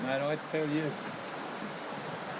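Water rushes over rocks in the Kimberley, a constant close wash of flowing sound. Someone speaks briefly at the start, then the water carries on alone.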